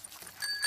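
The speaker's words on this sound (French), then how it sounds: "Et ici la sonnette." Cartoon bicycle bell ringing on a bike, a brief bright ding that swells toward the end of a short moment, alone without talk.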